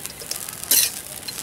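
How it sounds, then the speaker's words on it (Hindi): Coconut and chickpea poha mixture is stirred together in a pan, giving one short, soft scraping swish in an otherwise quiet moment. "चलिए हम सभी को एक में मिक्स कर देते हैं।"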